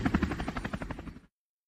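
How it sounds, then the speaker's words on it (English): A helicopter flying in the Screen Machine game from Sugar Software on the CoCo computer gives a steady chopping rotor beat with engine whine, close and fairly loud for about a second before cutting off abruptly. "I took the helicopter."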